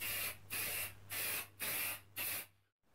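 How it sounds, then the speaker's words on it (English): Clear varnish sprayed from an aerosol can onto a wooden key holder, five distinct hissing bursts of roughly half a second each, close and steady, ending in silence. "And to finish it off, some clear varnish."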